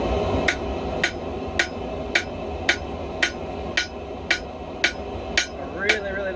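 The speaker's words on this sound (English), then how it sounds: "I really like this hammer I'm using." A hammer repeatedly strikes hot steel during hand forging, about a dozen sharp, evenly spaced metallic blows, near and loud over a steady background hum.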